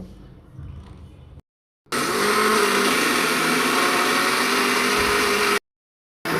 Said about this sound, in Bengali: এখন আমি ফলের জুসার দিয়ে জুস বানিয়ে নেব।